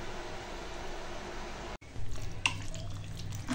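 Tap water runs into a kitchen sink while raw chicken neck, liver and gizzard are rinsed clean for a spicy curry, a steady close splash with a brief break partway, then heavier flow with small clatters and drips.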